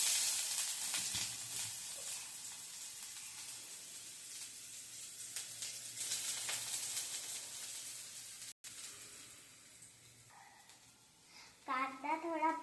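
Cumin seeds sizzle in hot oil for paneer bhurji, a steady faint hiss running underneath while a child and an adult talk nearby.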